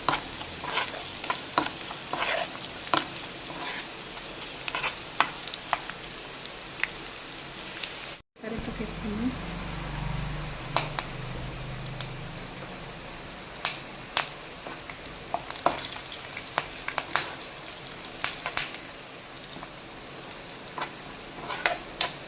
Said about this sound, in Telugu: సాల్ట్ వేసుకొని మిక్స్ చేసుకున్నాం